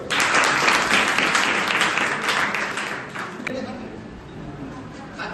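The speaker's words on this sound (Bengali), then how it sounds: "হাততালি হোক।" Applause from a roomful of school workshop participants, a dense burst of many hands clapping that is loudest at first and tapers off over several seconds, with some chatter mixed in.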